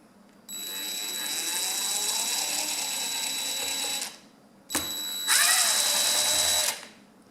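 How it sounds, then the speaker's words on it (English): A power driver whines in two bursts while backing screws out of a table fan, a high steady buzz lasting several seconds, a short pause, then a brighter second run, close and fairly quiet. "I'm going to take those two screws off"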